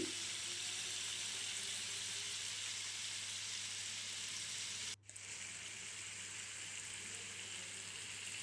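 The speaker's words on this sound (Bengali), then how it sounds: "মাংসগুলো কষিয়ে নেব প্রথম পর্যায়ে কিন্তু আমি পাঁচ থেকে ছয় মিনিট খুব সুন্দর করে কষিয়ে নেব" Mutton mixed with spices fries in a pan with a faint, even sizzling hiss that continues almost unbroken, with one brief dip midway.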